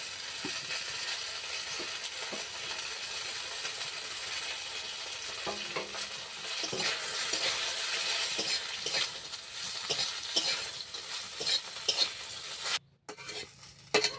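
Neem leaves and aubergine frying in a pan, with a steady soft sizzle and scraping stirs throughout, a few clinks of a utensil near the end.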